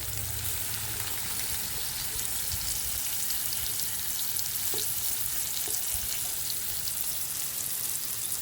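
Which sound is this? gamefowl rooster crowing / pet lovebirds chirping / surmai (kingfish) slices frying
surmai (kingfish) slices frying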